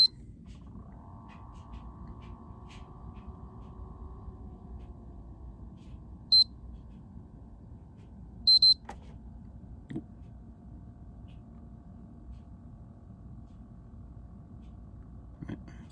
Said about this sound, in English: It's the double beep is usually what resets the settings.